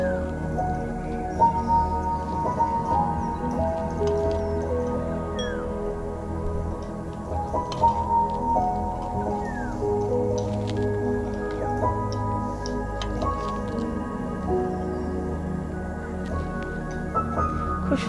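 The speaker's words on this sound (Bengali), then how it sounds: "দেখো আমি এখন এই বোলের ভিতরে একটু চিকেন তুলে নেব টেস্ট করার জন্য" Butter (reshmi) chicken is scooped into a bowl, giving soft, wet squishes and drips up close, repeated in short bursts against a low steady kitchen hum.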